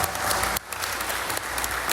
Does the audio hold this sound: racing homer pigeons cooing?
no